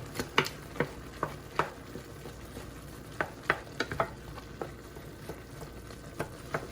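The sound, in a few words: ground meat simmering in a pan with green peppers and onions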